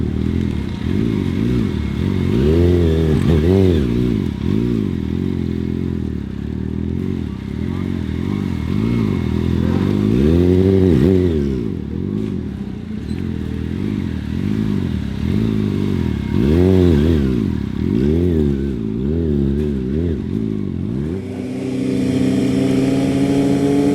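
A motorcycle engine holds a steady, loud idle during a no-hander trick at street speed, its pitch wavering slightly over a continuous mechanical drone.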